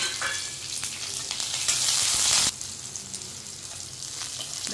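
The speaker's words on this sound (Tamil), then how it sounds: "இந்த பூண்டை போட்டு வதக்கிடணும்." Garlic sautéing in hot oil in a pan for a brinjal kulambu after the onions have browned, a continuous crackling sizzle with stirring scrapes, briefly louder before settling back down.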